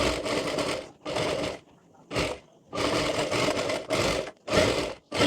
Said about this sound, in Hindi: यहाँ पर कॉर्नर से यहाँ तक लेकर सिलाई कर लेनी है हमें।